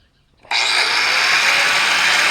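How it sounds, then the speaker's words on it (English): An angle grinder starts up after a brief quiet and then runs steadily at high speed. Its loud whine and hiss stay close and constant, with no voices over it. "Now we take our angle grinder here."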